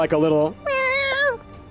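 A person's voice imitates a rattly, drawn-out cat meow twice during a Dungeons and Dragons tabletop game session. The first meow is rough and wavering, and a second longer one follows after a short pause, close and loud.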